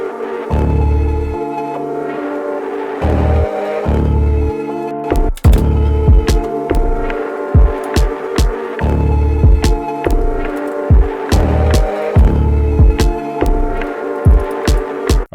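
A dark textured sample with drums playing under added reverb, heavy low bass throbs and sharp percussive hits ringing out into a washed, sustained tail, loud and continuous with no voices.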